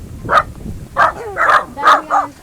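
Several sharp dog barks and yips burst out close by in quick, uneven succession, with short pauses between them, at a house on a farm.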